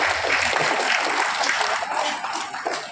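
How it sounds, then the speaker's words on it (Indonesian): An audience at a public discussion and book launch gives a burst of applause, dense clapping heard close and continuous, tapering slightly near the end. "Kita berikan tepuk tangan."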